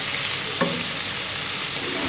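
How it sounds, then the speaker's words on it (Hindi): Fajita chicken filling fries in a pan with a steady close sizzle, and a single spoon scrape comes partway through. "साथ साथ हम चमचा भी चलाते जाएंगे ताकि ये नीचे लगे ना"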